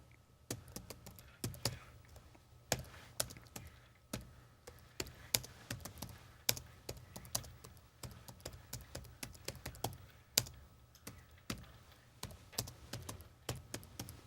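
Steady typing on a computer keyboard while entering a search, a quiet, irregular run of key taps throughout with no talking.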